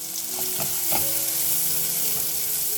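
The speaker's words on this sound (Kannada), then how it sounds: "ನೋಡಿ ಆನಿಯನ್ ಫ್ರೈ ಆಗಿದೆ" Chopped onions sizzle and fry in a hot pan with curry leaves, a steady close crackle and hiss with a few stirring clinks near the start, and no voices.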